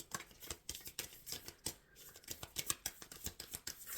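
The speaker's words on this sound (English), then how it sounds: "I am shuffling for the concluding message" Tarot cards are shuffled close up in a quiet room, giving quick papery riffles and soft slaps in irregular bursts with brief pauses between them.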